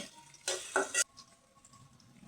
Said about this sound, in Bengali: তেল দিয়ে দেবো পেঁয়াজ কুচি, দিয়ে দেবো কাঁচামরিচ কুচি